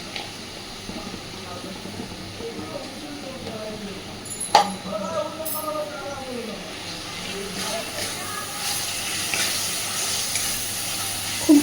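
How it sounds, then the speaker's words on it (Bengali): Ground coriander and cumin sizzle in a pan for masala khichuri, a soft continuous frying hiss with a few stirring clinks and scrapes, while a voice talks over it. "খুব ভালোভাবে মশলাটাকে এবার কষাতে থাকবো।"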